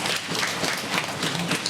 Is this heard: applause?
yes